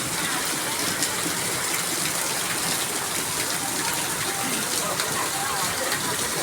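Heavy rain pours down in a dense, continuous hiss, loud and even throughout with no break or change in intensity.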